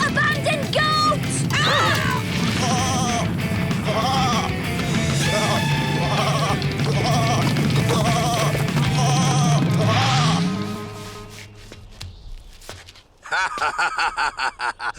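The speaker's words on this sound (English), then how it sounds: "Abandoned goat!" A cartoon goat bleats repeatedly in loud, wavering cries over busy background sound in a mountain setting, followed by a sudden crash and rapid clattering.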